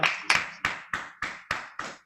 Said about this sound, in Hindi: शानदार तालियों के बीच में इनवाइट करने जा रहा हूं